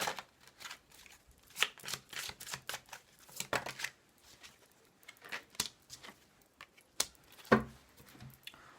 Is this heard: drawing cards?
yes